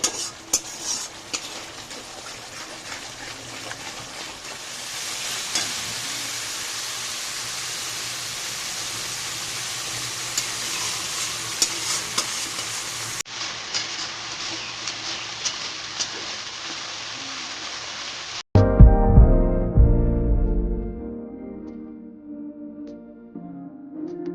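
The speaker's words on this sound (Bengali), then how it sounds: "এবারে মশলাটাকে ভালো করে কষে নিচ্ছি।" Masala for katla fish curry frying and being stirred in a pan, a loud steady sizzle with frequent spatula scrapes and clinks, ending in a sudden louder rumbling clatter.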